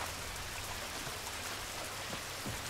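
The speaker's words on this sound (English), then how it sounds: "No, it's pissing rain." Steady, fairly soft rain pours down in The Last of Us: Left Behind, an even hiss of drops hitting surfaces with no voices over it.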